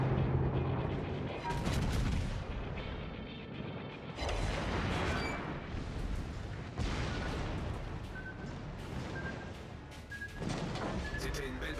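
Naval gunfire in the video game World of Warships: booming cannon salvos and heavy blasts recur across the clip, mixed with game voice lines and talk.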